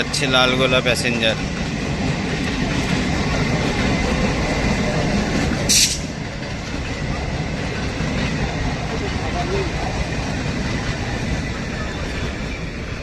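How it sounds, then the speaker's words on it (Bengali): The Lalgola Passenger train speeds through Dum Dum Junction without stopping, a loud, steady rumble of wheels and carriages close by, with a brief horn-like burst early on and the roar sustained throughout. "যাচ্ছে লালগোলা প্যাসেঞ্জার দমদম না দাঁড়িয়ে দ্রুত গতিতে বেরিয়ে"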